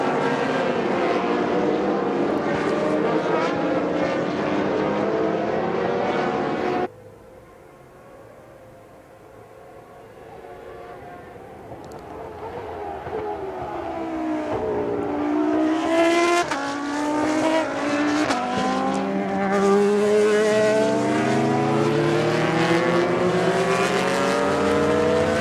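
Formula One race cars, including a Jordan 197 and a Benetton B197, roar past at Indianapolis. A loud engine howl cuts off abruptly, then a new wave of cars builds from a distance into dense, overlapping screaming engines with pitch sweeps as they pass.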